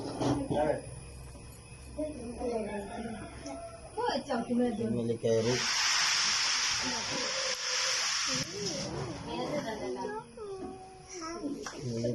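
A snake hidden inside a cauliflower at Parappanangadi hisses in one sustained, airy burst lasting a few seconds, close and loud, while several people talk excitedly before and after.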